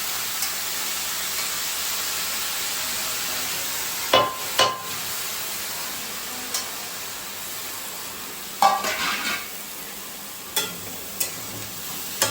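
Spinach fries in a pan with eggplant under a constant hissing sizzle, broken by a few sharp utensil knocks and scrapes, with no speech.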